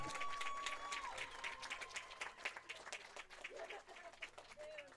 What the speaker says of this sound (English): please, one final round of applause for number 6, Rachel Cochran